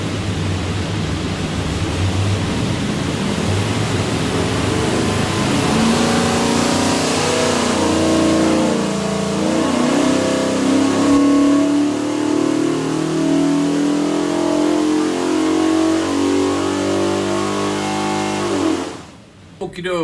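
A 531 hp 427 Ford V8 built for a '78 F150, with a Moroso pan, revs hard on a dyno in one long sustained pull, loud and close, then cuts off abruptly near the end.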